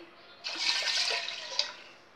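Water is poured into a pressure cooker holding rice and milk for pongal, making one close, splashing stream that lasts about a second and a half and then trails off.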